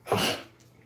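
One short, forceful sneeze close to the microphone, followed by a brief quiet tail.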